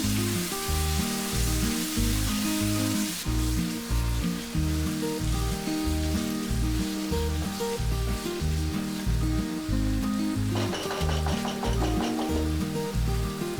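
Beef karahi sizzles and crackles in a pan as it is mixed, a continuous frying hiss sitting beneath steady, rhythmic background music throughout.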